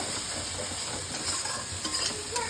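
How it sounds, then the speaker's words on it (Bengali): Spice paste with tomato and onion sizzles in a pan while a spoon stirs it, making a close, continuous hiss with scraping and light clinks of metal. "ভালো করে আমরা মশলাটাকে কষাবো, টমেটো পেঁয়াজের মধ্যে দিয়ে মশলাটাকে আমরা ভালো করে কষাবো"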